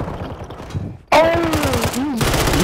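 Gunfire in Warzone 2.0 on Rebirth Island, a sudden loud shot followed by a short burst of rapid fire, with excited voices talking before and over it.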